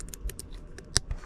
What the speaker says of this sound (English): And these also both click into place.